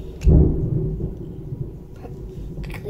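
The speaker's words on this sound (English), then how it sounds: "that's the thunder" Outdoor thunder during a rainstorm: a low, muffled rumble that swells early, then fades into a long dull roll heard from indoors, under a faint steady background of rain.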